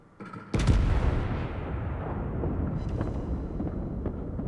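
Main guns of the HMS Dreadnought, a British tier-3 premium battleship in World of Warships, fire in a sudden loud booming salvo, followed by a long rumbling roar that slowly fades.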